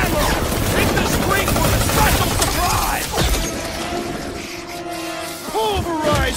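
Gunfire in the Guardians of the Galaxy video game: rapid bursts of shots mixed with crashing impacts amid a chaotic battle, dense and loud, easing partway through, with game voices heard over it.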